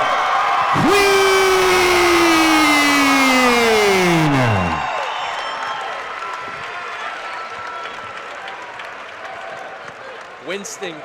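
A boxing crowd roars and applauds after a first-round knockout, with loud whoops and yells up front, a long falling shout, then the cheering fading into lingering applause and chatter.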